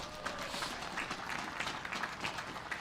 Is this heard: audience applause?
yes